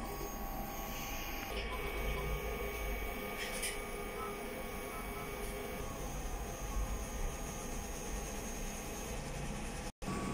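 Sublimation printer running a head cleaning cycle, a steady mechanical whir and hum with occasional clicks, moderately loud and continuous, with no talk.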